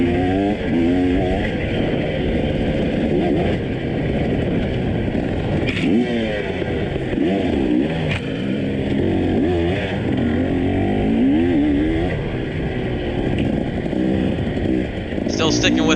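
A race car accelerating hard in the TORCS racing game at Blackland Prairie Ranch, its engine roaring loud and continuous throughout while someone talks over it.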